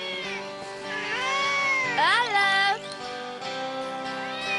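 A cartoon cat meows several times in high, wavering, drawn-out cries, with a sharper rising squeal near the middle, while a voice calls out over part of it.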